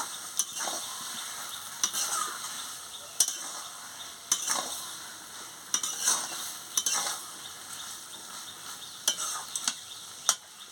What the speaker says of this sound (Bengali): গুঁড়োটা আমি ছড়িয়ে দিচ্ছি, দিয়ে ভালো করে নাড়িয়ে নিচ্ছি।